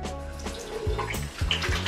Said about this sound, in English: And then I wash it off with lukewarm water.